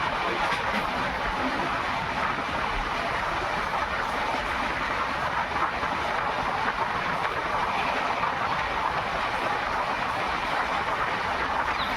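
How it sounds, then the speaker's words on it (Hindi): The Bhagat Ki Kothi–Visakhapatnam Express, an overnight Indian express train, rolls steadily through Kuchaman City station without stopping, a continuous broad rumble with clickety-clack of wheels over rail joints heard from on board, no talk. "तो ट्रेन स्किप करने जा रही है कुचामन सिटी रेलवे स्टेशन को।"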